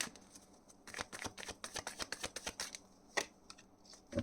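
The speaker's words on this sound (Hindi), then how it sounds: "सो एक लव के लिए कार्ड निकालते हैं, करियर के लिए, और एक गाइडेंस।" Tarot cards are shuffled in quick, crisp riffling bursts with soft flicks as cards are drawn, close and fairly quiet, with no talking.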